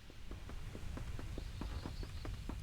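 Horse hooves clip-clopping in a Lord of the Rings video game, a quick, regular walking rhythm of soft hoof beats, faint and steady with no talk.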